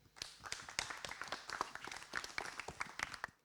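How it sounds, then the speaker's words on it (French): A small audience claps for a few seconds, sparse individual hand claps in an uneven rhythm, fairly faint and ending abruptly. "je vous demande d'applaudir très très fort"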